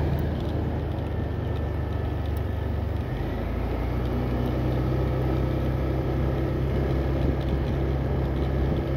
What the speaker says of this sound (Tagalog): Dami ng mga motor dito umakyat